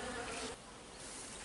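Honeybees buzz around a hive during a shook swarm, a close, continuous drone that dips suddenly partway through and then carries on at a lower level.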